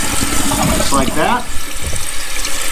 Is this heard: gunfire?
no